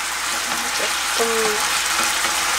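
Spicy braised tofu with soy sauce simmers and sizzles in a pan, giving a steady, close hiss with a few soft tonal squeaks partway through.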